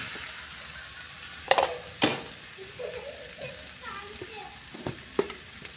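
Chicken pieces are added to a hot pan and fry with a soft, steady sizzle, punctuated by a few sharp utensil clinks and stirring scrapes.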